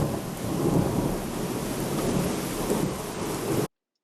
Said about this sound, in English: The sound of thunder that follows a lightning bolt is unmistakable to anybody who's ever experienced a thunderstorm.